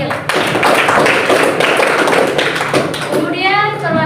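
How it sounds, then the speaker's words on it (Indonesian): Classroom applause from a group of students, dense and steady clapping that fills most of the moment before fading, with a few voices and a bit of speech near the end. "Beri tepuk tangan untuk Febrian Sabil"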